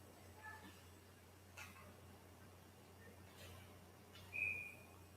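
A referee's whistle at a varsity hockey game between Mona Shores and Manistique gives one short, shrill blast near the end, over a steady arena hum and faint crowd noise.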